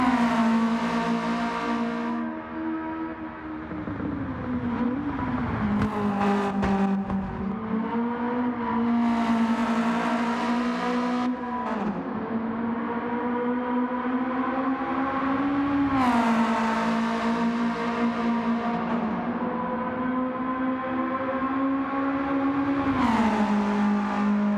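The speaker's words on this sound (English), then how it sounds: "Just watch different cars go around the ring." Honda VTEC cars lapping the Nurburgring, engines screaming at high revs with strong harmonic whine, pitch rising and dropping through repeated shifts and corners, loud and continuous with no talk.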